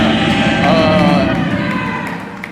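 Comedy show audience giving a short burst of loud cheering and clapping at the end of a live set, sustained and gradually fading.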